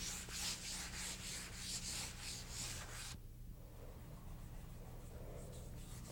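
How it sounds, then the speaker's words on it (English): Wood parquet floor hand-sanded between finish coats, a close, steady rhythmic rasp of repeated back-and-forth strokes for about three seconds, then softer, quieter scuffing. "and then I'm hand sanding, and I'm blending out wider with my hand sanding than I did with a scraper"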